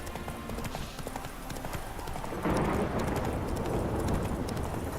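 Roach the horse gallops in The Witcher 3, hooves clip-clopping in a steady rapid rhythm that grows louder and denser halfway through, close and continuous under game ambience.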